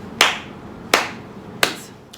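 Three separate sharp claps spaced about a second apart, with a softer fourth near the end, each a bright crisp burst standing alone against a quiet background.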